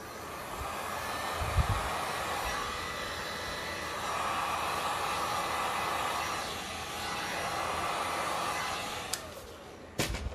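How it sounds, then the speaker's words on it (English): A heat gun blows briefly over a veined resin mold with a steady, airy, hair-dryer-like roar that swells and eases, ending with a few sharp clicks. "Oh yes, heat gun. Just a little bit."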